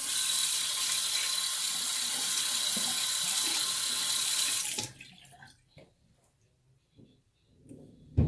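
A bathroom tap runs steadily as a razor is rinsed during a straight-razor shave, a loud continuous water stream that stops after about five seconds and leaves small clinks and quiet handling noises.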